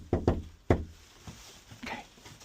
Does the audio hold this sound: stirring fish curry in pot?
no